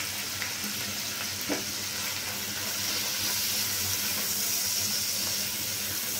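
Chili, coriander and turmeric powders sauté in hot oil in a pan, a continuous hiss and crackle of frying with an occasional stir or clink, steady and close with no voices.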